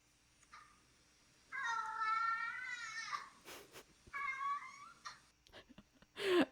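A domestic cat yowls close up in two long, drawn-out meows whose pitch rises and wavers, separated by a pause with small rustles, ending in a short sharp noise.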